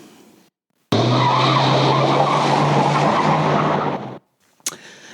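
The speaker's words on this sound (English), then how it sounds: "Yes, that is the sound of a car speeding off." A car accelerates hard with a loud, sustained tire squeal on pavement for a few seconds, then cuts off abruptly.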